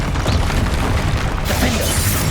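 A Confringo blasting curse goes off in Hogwarts Legacy with a loud, full-bodied explosive roar, a dense rumbling burst that stays intense through its short length without pause.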